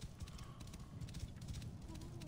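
Horse hooves gallop in Assassin's Creed Origins outside a city, a fast, close clip-clop rhythm that carries on steadily, with faint ambient game sound beneath it.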